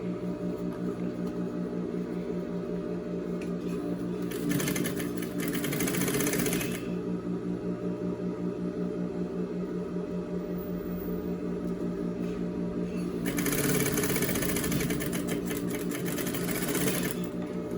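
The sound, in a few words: sewing machine stitching camouflage fabric for a skirt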